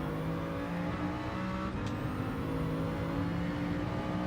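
Steady car engine drone from Gran Turismo 7 online lobby racing, holding a constant loud whine with harmonic tones and only a faint shift in pitch, no voices over it.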